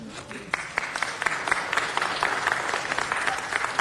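An audience at a Los Angeles city council meeting applauds, a dense, steady patter of many hands clapping together through the whole stretch, fairly close and loud.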